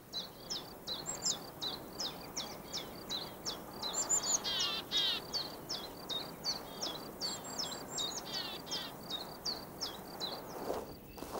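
Forest birds sing in a steady series of repeated high chirping phrases, fairly close and clear, with other calls overlapping in the middle against a quiet natural background.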